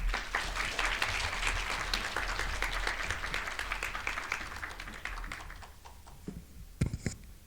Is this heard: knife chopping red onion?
no